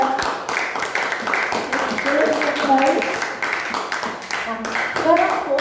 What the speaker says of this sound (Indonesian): beri tepuk tangan buat kelompoknya Evan yang bagus sekali semuanya